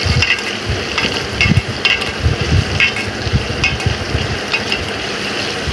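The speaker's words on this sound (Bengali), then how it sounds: "এখন কিছু পেঁয়াজ দিলাম, দিয়ে একটু নেড়ে নেব।" Onions fry in a pan with garlic, chilli and turmeric and are stirred, giving a steady close sizzle broken by repeated scraping strokes of the spoon, with no talking.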